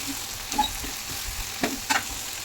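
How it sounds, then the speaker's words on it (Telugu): Ivy gourd curry seasoned with chili and salt is stirred in a frying pan, with a constant hiss of frying and a few sharp scraping clicks of the spoon against the pan. "ఇప్పుడు మొత్తం మిక్స్ అయ్యేలాగా కలిపేసుకోవాలి"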